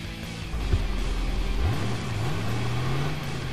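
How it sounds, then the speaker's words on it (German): Ben's B32 car driving in the video game Alarm für Cobra 11 Burning Wheels, its engine droning steadily, then rising and dipping in pitch as it revs, close and continuous with no one talking. "Aber ich würde sagen, wir fahren mal mit Bens Karre,"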